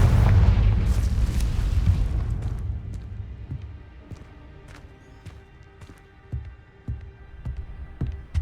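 A Confringo explosion spell in Hogwarts Legacy, a loud booming blast that rumbles for about two seconds and then fades into scattered smaller pops and crackles.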